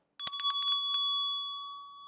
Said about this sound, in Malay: Setiap kali saya bunyikan loceng